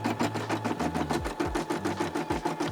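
A Brother SE600 embroidery machine stitching out a design, with a fast, steady mechanical chatter of needle strokes and a whirring motor whose pitch shifts as the stitching changes, close and continuous.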